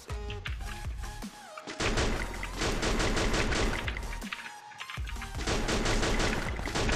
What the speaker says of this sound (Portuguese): Os caras tá trocando tiro aqui